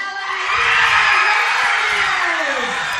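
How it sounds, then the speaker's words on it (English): A high school football crowd erupts as the homecoming queen is named, a loud sustained roar of cheers, whoops and shouting that swells quickly and holds steady. "Well, we heard the first name, and then the crowd went nuts, so Dave is doing some research."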